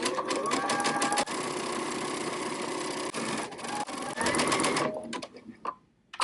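A sewing machine stitches a very narrow zigzag hem about 5/8 inch from a folded fabric edge, running loud and steady in a fast whirring hum, briefly pausing and stopping near the end.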